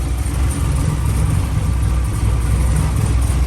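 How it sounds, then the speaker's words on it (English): A radiator cooling fan whirs over the idle of a Camaro SS with a 416ci 13:1 compression engine, a steady low rumble and broadband rush holding constant and close, with no talking. "Fan just came on."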